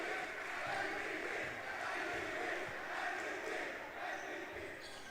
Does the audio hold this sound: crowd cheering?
yes